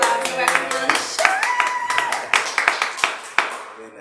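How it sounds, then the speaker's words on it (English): A live studio audience claps for the guest on a talk show, a burst of sharp, uneven hand claps close by with voices and talk layered over them throughout. "Let's give him a round of applause."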